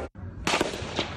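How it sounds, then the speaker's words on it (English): Gunfire at a congressional baseball practice in Alexandria, Virginia: a sudden burst of sharp, loud cracks after a brief dropout, followed by another distinct bang, heard at moderate distance with no talk. "Gunfire rang out at a congressional baseball practice in Alexandria, Virginia this morning."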